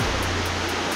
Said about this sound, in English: Sounds like Niagara Falls in the background.